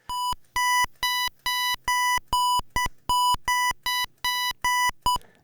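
A square-wave NES-style chiptune beep from the Furnace tracker, set to a higher pitch, repeats in a steady pulse of about thirteen short, bright, buzzy tones with brief gaps between them, heard alone and with no talking.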